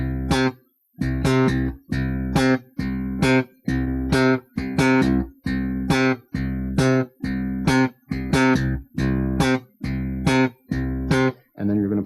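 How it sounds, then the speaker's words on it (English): Slap bass guitar playing a simple octave exercise, a repeating pattern of two long tones followed by a short one, cycling evenly for about a dozen bars, close and clean with no talking. "So we're just going to play some simple octave exercises using some of the right hand rhythms that we talked about previously"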